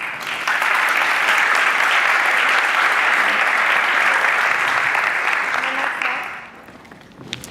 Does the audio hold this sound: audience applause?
yes